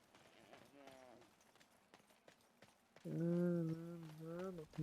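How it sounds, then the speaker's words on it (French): In the video game Dragon Age: Origins, a loud, wavering animal bleat like a goat or deer rings out after a stretch of quiet game ambience, holding for almost two seconds with a tremulous pitch. "Des bruits de chèvres, les cerfs."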